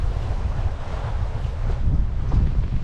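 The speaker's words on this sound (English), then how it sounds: "Although strangely the wind has decided to pick up now." Steady wind roars across the microphone aboard a sailboat at sea in Scottish waters near Eigg, a loud continuous low rumble with rushing gusts that swell slightly toward the end, mixed with faint wave wash.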